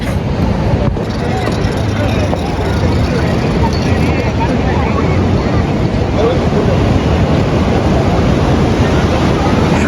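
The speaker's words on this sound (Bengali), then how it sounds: "রাতের সমুদ্রের গর্জনটা এরকম জাস্ট ওয়াও" Loud, continuous low roar of sea surf with heavy wind buffeting, steady throughout, and a voice faintly present underneath.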